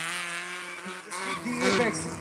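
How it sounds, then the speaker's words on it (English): Suzuki Swift drift car at a race track drifting event, a sustained engine drone rising in pitch with tire squeal near the end, while a commentator talks over it. "this is a very good engine for the Swift"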